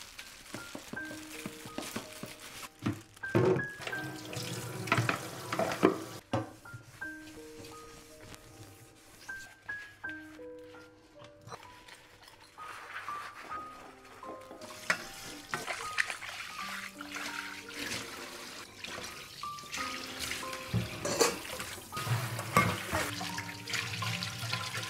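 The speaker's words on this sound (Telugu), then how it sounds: "అండ్ ఉన్న యుటెన్సిల్స్ అన్నీ కూడా ఎప్పటికప్పుడు వాష్ చేసేసుకుంటున్నా." Utensils are washed in a kitchen sink under running tap water, with splashing and clinking throughout, partly under soft background music.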